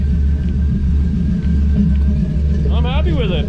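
A 1957 Chevy with a swapped LS engine and loud exhaust idles with a deep, steady rumble, then a brief quick rev rises near the end, close by.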